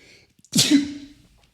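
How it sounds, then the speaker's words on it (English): A man sneezes once, a short loud close-up burst preceded by a faint inhaled breath, then fades into quiet. "I'm going to sneeze"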